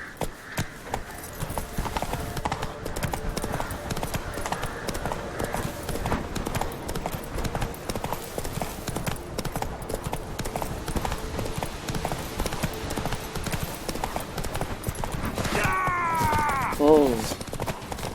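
Hooves of a horse galloping in The Witcher 3 video game, a fast steady clip-clop rhythm that runs throughout under game music and ambience, with a brief horse snort or whinny near the end.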